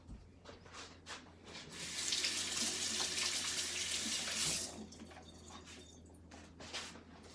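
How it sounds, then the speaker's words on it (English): Water pours from a kitchen sink tap for hand washing, a steady close hiss of several seconds framed by brief splashes and clatter before and after. "Make sure to wash your hands after that."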